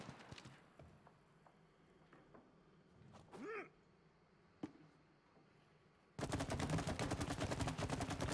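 Shooting in the It Takes Two video game: a few sparse sharp shots and a rising whoosh, then a loud, dense burst of rapid gunfire filling the final two seconds.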